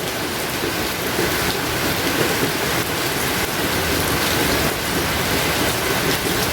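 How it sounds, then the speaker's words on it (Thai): Heavy rain pours down steadily outdoors, a dense, loud, continuous hiss of drops on surfaces with no talking. "ตอนนี้ฝนก็ตกมาเยอะแล้วครับ"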